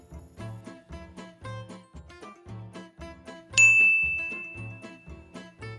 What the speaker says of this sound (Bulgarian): Ново съобщение.